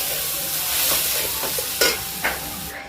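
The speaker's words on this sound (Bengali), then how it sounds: "এটাকে হালকা করে একটু ভেজে নেব," Rice flour dough for coconut biscuit pitha fries lightly in a pan with a steady close sizzle and hiss, broken by a couple of short scraping stirs near the end, no voices.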